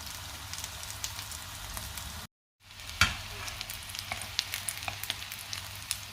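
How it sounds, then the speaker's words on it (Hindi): Potato and chicken tikki fry in a pan over high heat, giving a steady crackling sizzle with scattered pops, briefly cut out, then resuming. "सिर्फ मैंने इसको फ्राई करना है, तो इसलिए मैंने आग को जो है वो तेज़ ही रखा है।"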